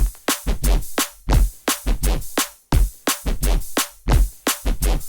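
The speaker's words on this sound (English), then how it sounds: "It's just only a sine wave with a bit of white noise running into it" A pulsing drum and bass synth line, a sine wave with white noise: stuttering, choppy notes with a hissy, noisy edge over a deep low tone, repeating in a bouncy rhythm.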